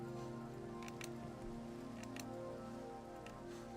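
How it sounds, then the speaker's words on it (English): Steady rain falls in a modded Minecraft world, a constant even hiss of rain on surfaces with a few faint clicks from game interaction, no voices. "And it is raining."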